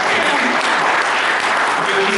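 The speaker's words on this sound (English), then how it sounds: "A little more enthusiastic clapping for the wine there." Dense, enthusiastic audience clapping at a Livermore community gathering, loud and continuous for a couple of seconds with a voice faintly beneath it.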